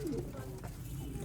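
Sialkoti pigeons coo softly in low, throaty tones close by, partly masked as someone talks over them throughout.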